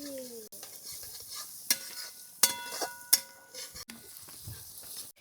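Momo filling fries in a pan with a soft ongoing sizzle, broken by several sharp clinks and scrapes of a spoon stirring against the metal.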